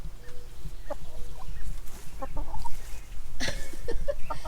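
Backyard hens cluck and murmur close by, with scattered short calls and a sharper burst of clucking toward the end, over a low steady background rumble.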